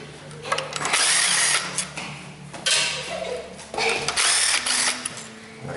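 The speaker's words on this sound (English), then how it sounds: "Take the bolts here out of the valve body." A 10mm ratchet loosens valve body bolts during a Toyota Camry transmission fluid and filter change. It makes bursts of close, rapid clicking, several runs of ratcheting separated by short pauses.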